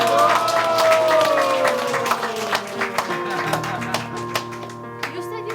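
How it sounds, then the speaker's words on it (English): Audience applause at a Vyasapuja celebration, scattered claps and taps from a crowd, loudest early then thinning into separate sharp hand claps, with lingering tones and voices in the background. "I want you all thankful with your biggest applause for our mother"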